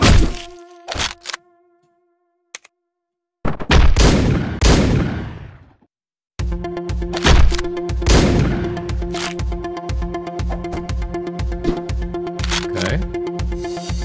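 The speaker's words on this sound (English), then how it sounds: "I'm just gonna use a gun." Gunfire in Hotline Miami, sharp bursts of rapid shots broken by silent gaps, then a sustained stretch of fast, rhythmic machine-gun fire over a pulsing music track.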